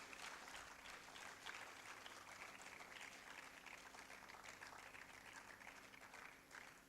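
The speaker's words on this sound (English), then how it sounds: "Please, let's keep clapping for them as they take their seats." Sustained audience applause fills a hall at an AI book launch as dignitaries take their seats, steady dense clapping throughout at a fairly low level.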